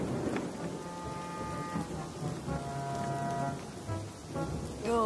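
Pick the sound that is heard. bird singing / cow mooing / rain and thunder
rain and thunder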